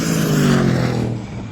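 Aston Martin DBX 707 and Lamborghini Urus SUVs drag racing down a runway toward the mile mark, a loud sustained engine roar and wind rush that slowly fades as the cars pull away.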